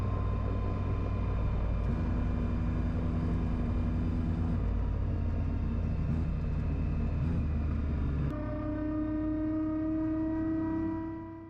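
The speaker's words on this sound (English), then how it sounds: "A little bit of power and start the pre-rope." An AutoGyro Cavalon gyroplane lined up on a runway centre line, its engine throttling up with a steady droning hum and rising tonal whine as the rotor pre-rotation spins up, the pitch stepping higher near the end before fading.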